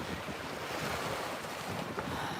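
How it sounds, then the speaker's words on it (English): Wind blows outdoors in steady, roaring gusts, buffeting the microphone with a constant loud rumble and hiss and no voices. "it's windy"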